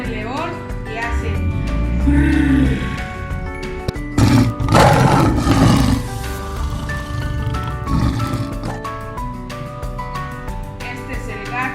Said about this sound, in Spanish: Este es el león y hace